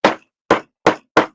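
A hammer knocks four times on a 3D printed guitar body, each blow a sharp, close, solid thud with a short decay, spaced at a steady, unhurried rhythm with silence between strikes.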